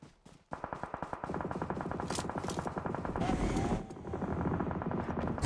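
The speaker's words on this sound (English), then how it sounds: "it does sound more like automatic gunfire than fireworks" Automatic gunfire in PUBG Mobile rattles off in rapid, evenly spaced bursts, loud and close, blending into a sustained roar with a droning, helicopter-like rumble underneath.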